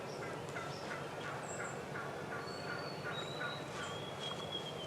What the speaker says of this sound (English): That sounds like a real hen over there